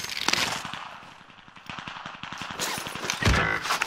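Rapid bursts of automatic gunfire crackle through a Call of Duty Warzone match in Caldera, a steady rattling stream of close shots that swells into a loud, dense burst near the end, with no voices over it.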